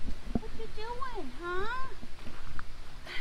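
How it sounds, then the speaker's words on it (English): A cat meows near a resort in Florida, a couple of rising and falling mewing calls over steady background noise and nearby talking. "Hi, kitty meow meow."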